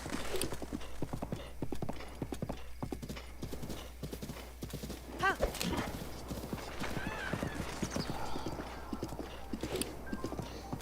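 Horse hooves clip-clop steadily in a video game while riding, with an occasional neigh or whinny rising midway; the game soundtrack and ambience hum quietly underneath.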